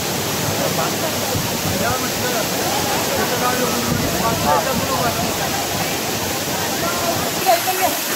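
Jambhulkada waterfall roars loudly and steadily throughout, a dense rushing wash that barely lets faint voices through.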